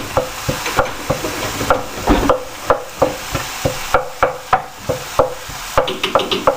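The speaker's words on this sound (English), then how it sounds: "breaking it up into the little pieces, making it easier to fry" Meat fries in a pan with a constant sizzle, broken by regular scraping and tapping strokes of a utensil breaking it apart.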